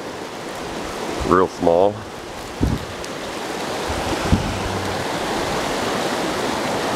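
Rapids below a spot on a river during evening bass fishing, a steady broadband rush of water that fills the whole clip, with a few brief spoken words over it early on.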